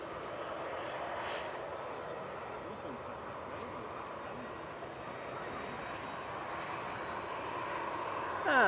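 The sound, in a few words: Austrian Airlines plane taxiing at Manchester Airport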